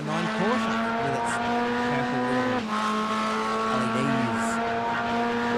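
Porsche GT3 race cars at Mobility Resort Motegi in a racing video game: close, loud high-revving engine whine with shifting pitch as gears change, a brief tire squeal, and a voice talking over the action.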